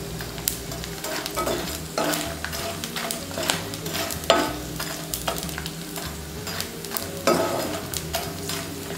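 Edible gum fries in ghee in a pan, a close, steady sizzle punctuated by repeated scraping and clanking strokes of a spoon stirring against the metal, with no talking.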